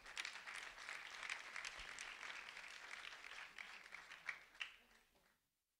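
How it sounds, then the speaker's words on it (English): Audience applause at the Do The Right Thing Awards Ceremony honoring two first-grade students, a dense, steady clatter of many hands that holds for several seconds before stopping abruptly. "A round of applause for Josue and also Rachel"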